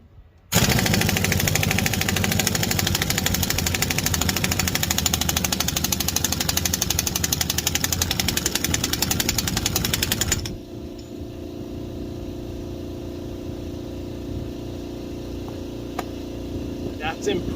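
A 1934 Frazer-Nash TT engine roars at full power with a loud, rapid chugging pulse for about ten seconds, then drops to a quieter rumble.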